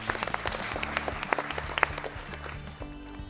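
An audience at a quiz competition applauds a team, a moderate round of clapping with a few sharp, prominent claps standing out before it thins toward the end.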